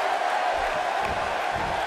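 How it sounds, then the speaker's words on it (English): A capacity arena crowd roars in the WWE 2K18 wrestling game during a women's tag team match, a steady, moderately quiet wash of cheering that never lets up. "This capacity crowd is beside itself."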